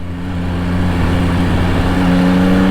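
A 2024 Yamaha XSR900 motorcycle drops a gear under braking, its engine giving a loud, steady, close-up drone with a rough, buzzing tone and no talking.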